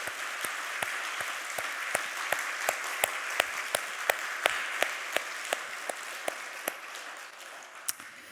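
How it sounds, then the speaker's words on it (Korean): A church congregation at a Sunday worship service claps together in a steady, rhythmic beat, sharp unison claps repeating about twice a second over a dense wash of room noise for several seconds. "우리 하나님 감동받으시는 박수를 힘차게"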